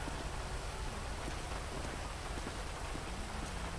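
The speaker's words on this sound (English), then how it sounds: "so get me out of the rain" Steady rain falling in a video game, a dense, even hiss of drops on surfaces filling the whole stretch, fairly loud and constant with no talk over it.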